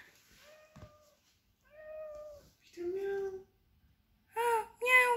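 A series of four or five drawn-out, cat-like meows at home, near and moderately loud, spaced by short pauses. The last two are the brightest and strongest, and voices seem to imitate a cat.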